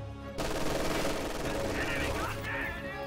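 Sustained bursts of machine gun fire in a real-time strategy game, loud and continuous for a few seconds after a brief lull, with faint battle noise behind.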